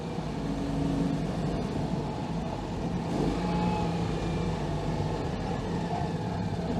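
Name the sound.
Citroen 2CV engine revving while driving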